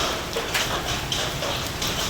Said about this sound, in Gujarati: કરાનો અવાજ આવી રહ્યો છે